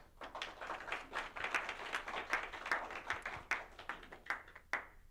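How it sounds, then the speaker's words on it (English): Light, sparse clapping from a small audience at a tournament event, individual claps clearly separated and fairly quiet, with no speech over it. "Give him a big round of applause."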